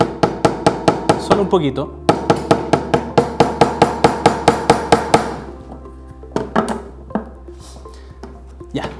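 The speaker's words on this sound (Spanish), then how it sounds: "Entonces empezamos a martillar." Wooden dowels are hammered into a wooden planter with a steady run of sharp, loud, close blows at a quick even rhythm, pausing briefly, then a few scattered final taps as someone speaks briefly.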